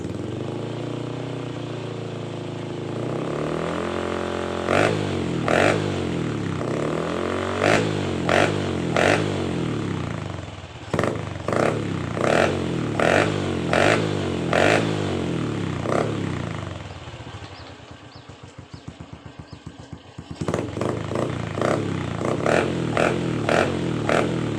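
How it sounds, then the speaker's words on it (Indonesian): A motorcycle fitted with a new Honda Blade exhaust idles low, then revs in a series of sharp, loud throttle blips with a brief lull, close to the microphone with no talking. "Kita coba gas."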